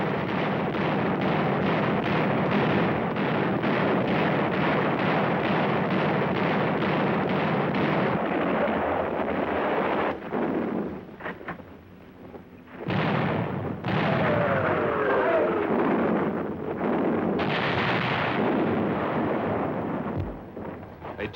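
Warships' naval guns fire point blank at Japanese shore positions in World War II, heavy booming blasts and rolling thunder continuing almost without a break, loud and dense with brief quieter gaps.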